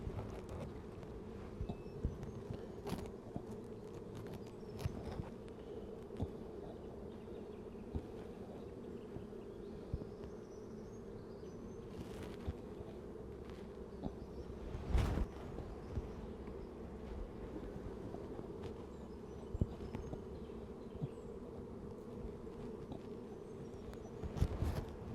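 Honey bees hum in a steady, dense drone around an opened hive outdoors, faint and continuous, with occasional clicks and knocks of handling.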